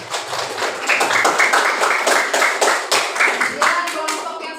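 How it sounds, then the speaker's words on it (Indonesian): A class of pupils claps for classmates who have just presented. The clapping is close and loud, with many hands. It comes in uneven rhythmic bursts and swells that rise and fall for a few seconds. "Beri tepuk tangan untuk kawannya."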